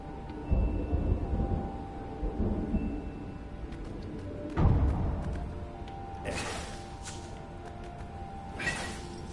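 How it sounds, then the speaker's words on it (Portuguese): Thunder in the video game Stories: The Path of Destinies, with two deep rumbling rolls, the second heavier, over a low ambient bed, followed by a few fainter swishing effects. "Esse barulho de trovão é muito perfeito, cara"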